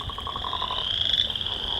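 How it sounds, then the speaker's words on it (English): A steady high-pitched wood frog call rings continuously, with a few lower croaking pulses early on, fairly close against a quiet wetland background. "Wood frog. Oh, wood frog,"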